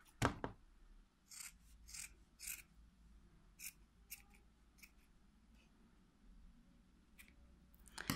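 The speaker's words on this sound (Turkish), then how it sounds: "eşit olacak bir şekilde altı makasımla kesiyorum" Scissors snipping a crocheted yarn tassel to even length, a series of close, crisp cuts in irregular rhythm with quiet pauses between.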